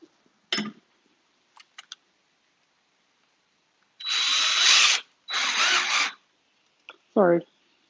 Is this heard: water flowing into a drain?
no